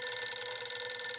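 A telephone rings steadily in a shop setting, a continuous electronic tone with a fast warbling pulse running unbroken from start to finish, fairly loud and close with no talk over it.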